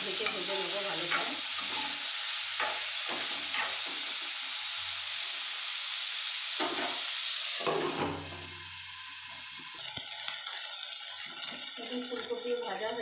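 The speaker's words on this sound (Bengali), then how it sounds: "ফুলকপিগুলোকে একটু ভেজে নেবো ভালো করে" Cauliflower florets frying in oil in a pan hiss with a bright, steady sizzle, broken by spoon stirs and clinks against the pan. The sizzle drops and settles quieter after a few seconds.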